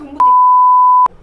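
A loud, flat censor tone holds for nearly a second over abusive words. Faint voices sit just before and after it.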